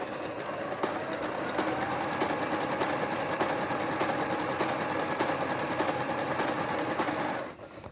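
A Singer Rumina 3000 sewing machine stitches continuously at high speed, a dense, even mechanical rattle of rapid needle strokes close by, running steadily before stopping abruptly near the end.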